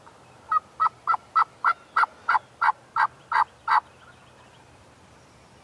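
Wild turkey gobbling in answer to a game call, eleven sharp, evenly spaced calls in a rapid rhythm, loud and fairly close against a quiet outdoor background, then silence.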